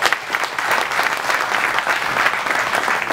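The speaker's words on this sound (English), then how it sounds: "You guys get to clap for Robin Williams." Audience at a comedy show at the Trump Taj Mahal bursts into loud, dense applause for Robin Williams, a close, steady clapping that fills the whole short moment.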